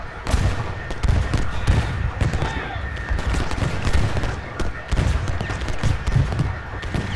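Dense, continuous musket volleys and artillery fire from a Civil War battle in a strategy video game, a busy crackle of overlapping shots with heavier booms throughout, loud and sustained.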